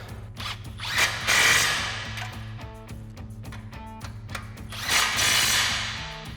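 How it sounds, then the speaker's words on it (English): A power tool with a 21mm socket runs nuts down on Jeep Gladiator JT heavy-duty steering parts in repeated close bursts, each spin ending in a clattering, ratcheting impact as it tightens. "Now we can tighten both of these down with our 21mm socket."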